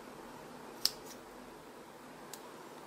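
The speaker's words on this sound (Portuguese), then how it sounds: "Eu vou colocar ele assim, vou trazer a tesoura assim" Scissors snip through red EVA foam in a quiet room, one sharp close cut followed by a few lighter clicks.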